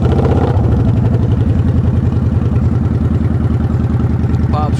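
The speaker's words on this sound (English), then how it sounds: "Fire it off and let you listen to it." A Kawasaki Vulcan 900 VN900B motorcycle with 3,202 miles fires up and settles into a loud, steady, throbbing idle that runs close and continuous throughout.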